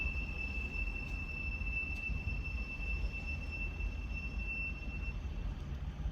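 Passing vehicle with worn brakes letting out a long, thin, high-pitched squeal that holds steady for several seconds over a low rumbling road background, then cuts off, heard from some distance.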